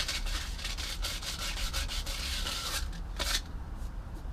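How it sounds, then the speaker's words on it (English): Sandpaper rubbing glue residue off a Yamaha R6 motorcycle handlebar, a quick series of close, soft scratchy strokes in steady rhythm that fade toward the end, with no talking. "what I'm going to go with now is just a wee bit of sandpaper"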